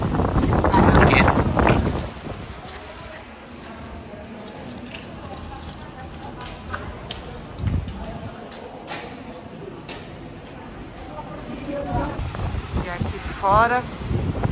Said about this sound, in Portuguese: Fora, ventando bastante.